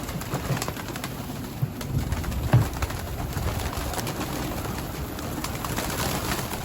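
Mardin pigeons coo softly and repeatedly, low throaty calls over a faint outdoor background hiss.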